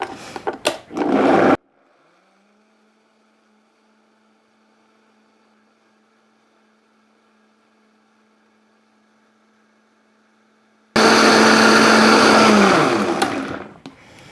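A kitchen blender whirs loudly as it mixes a chickpea gravy, starting abruptly after a long near-silent stretch with a faint hum and running for a few seconds.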